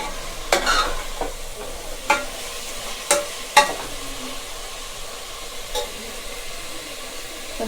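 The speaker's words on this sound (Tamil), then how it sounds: "நெக்ஸ்ட்டு நம்ம வந்து ஊற வச்சுருக்க கறியும் இதோட சேர்த்துடலாம்." Marinated chicken fries in a pan for biryani, with a soft sizzle running under five or six crisp clacks and scrapes of a stirring spoon, loudest early on and easing off toward the end, with no speech.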